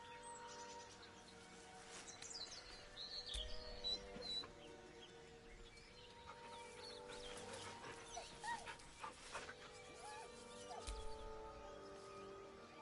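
Dog whining in the Baldur's Gate 3 video game, set over a busy bed of game music and ambience, with soft whimpers rising intermittently across the stretch at a moderate level.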